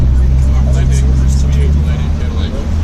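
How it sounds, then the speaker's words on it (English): Twin flathead V8 Cadillac engines power a WWII armored fighting vehicle at a St. Louis reenactment, giving a loud, steady low idle rumble that holds throughout with faint higher clatter above it. "Two V8 flathead Cadillac engines."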